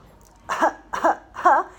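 Three distinct coughs, evenly spaced about half a second apart, close and fairly loud with quiet between them.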